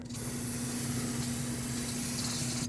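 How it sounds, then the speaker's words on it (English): Brake parts cleaner hisses from an aerosol can onto the rear hub of a Lexus IS250 during a rear brake job, one steady, loud, continuous spray held for nearly three seconds with a faint low hum beneath. "rinse it with some brake parts cleaner."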